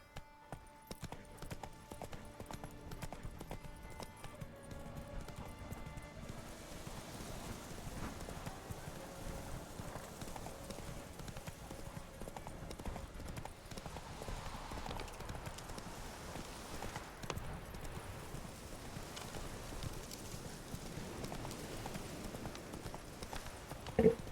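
A horse galloping in the Witcher 3 video game, quiet rhythmic hoofbeats clip-clopping steadily throughout amid faint game ambience and music.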